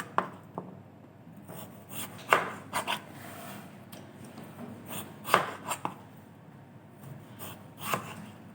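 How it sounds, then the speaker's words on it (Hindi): A knife cuts potatoes into fries with a series of sharp chopping strikes at uneven intervals, some in quick pairs, close and fairly clear over a quiet background. "और अब हम आलू उसमें काटेंगे"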